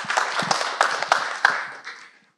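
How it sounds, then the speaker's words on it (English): An audience claps for a presenter at a Revit user group meeting, a short close burst of applause that fades out within two seconds. "let's have a big applause for Chris"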